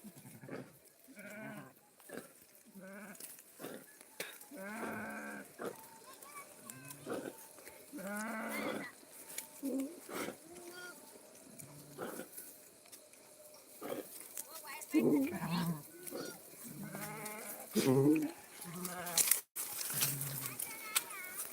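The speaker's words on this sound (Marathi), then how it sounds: "मित्रांनो आपल्या मेंढ्या या बाया काही बाहेर पळून आलेल्या आहे" Sheep bleat repeatedly in short wavering calls, near and fairly loud, from a flock that has run loose outdoors, interspersed with people talking and shouting amid outdoor noise.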